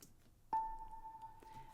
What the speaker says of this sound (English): I have this kalimba hit.